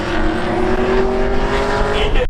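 An Audi drag racing at Seekonk Speedway, a steady, loud engine drone with a sustained tonal whine holding close and constant throughout, ending abruptly.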